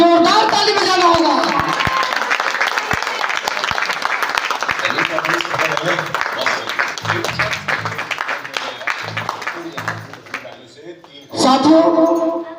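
Loud audience clapping at a company motivational gathering, an energetic wash of claps over talk and music-like tones that thins out midway before a strong final burst.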